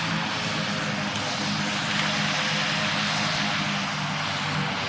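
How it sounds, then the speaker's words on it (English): Fixed-wing propeller aircraft on its landing approach in the Roblox flight game PTFS, flaps lowered and landing gear extending; a steady, loud engine drone with a constant propeller hum holds throughout, with no voices. "And the aircraft's coming in for landing pretty soon."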